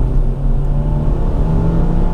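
A Kia Rio X-Line 1.6 runs at full throttle on the road, with a steady, loud low engine drone and whir heard from inside the cabin and no voices.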